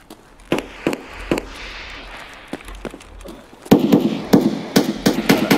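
Gunfire in the shooter Escape From Tarkov: sharp single shots cracking at irregular intervals, some distant and sparse at first, then a closer, louder cluster of reports toward the end.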